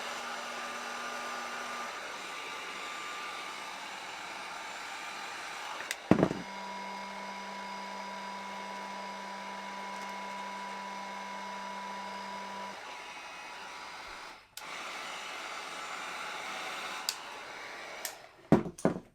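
Heat gun on its highest setting blowing over wrap film on a mirror, a steady close whooshing roar with a tonal hum that shifts pitch partway through, punctuated by a few handling clicks.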